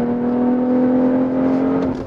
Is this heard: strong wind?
no